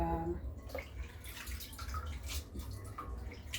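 Sliced arrowroot rinsed under a steady stream of running tap water, a continuous close splashing wash with faint shifting clinks throughout.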